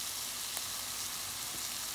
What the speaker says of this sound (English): Now I'm gonna add my tomato paste, and I'm gonna go in with about 3 heaping tablespoons